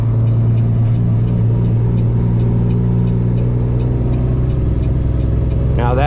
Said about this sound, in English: Going to the high side, flip the lever up and up into 5th gear.